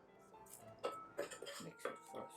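A utensil clinks against a bowl while pancake batter with cornstarch is mixed for Korean-style seafood scallion pancakes: several quiet, irregular taps and scrapes, close by.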